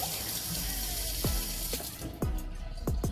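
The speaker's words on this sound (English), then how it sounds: "And then just add a little bit of water to it." Tap water runs steadily into a pot of washed rice for Jamaican vegetable rice with cabbage and okra, with a few sharp knocks and clatters over the continuous flow.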